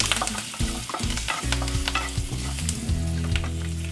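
Green chillies, garlic and turmeric stirred and frying in a pan, a steady close sizzle broken by repeated scraping stirs over about four seconds, with no voices.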